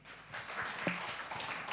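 An audience claps for two speakers at a worship music coaching clinic for vocals and keyboard, a faint, steady patter of many hands heard from a distance in a hall.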